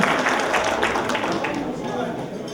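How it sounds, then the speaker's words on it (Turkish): An audience at a cultural and mutual-aid association gathering near Beyşehir claps in a sustained, dense round of applause, with a voice speaking over it. "Ona da bir alkış alalım."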